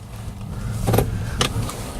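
A Chevrolet Spark EV electric car pulling away, with a low, quiet hum broken by a couple of brief, sharper mechanical bursts.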